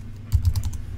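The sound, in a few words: typing on a computer keyboard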